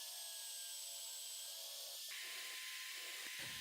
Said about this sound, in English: I drill the necessary holes to attach it to the workbench.